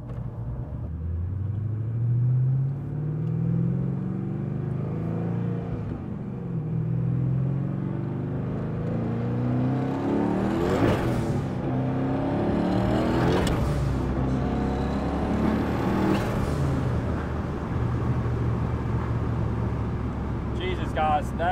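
1300 hp twin-turbo LSX 1969 Chevrolet Camaro restomod pulls hard under boost, its loud engine roar rising through three quick gear shifts in succession, heard from inside the car at close range with talk over it.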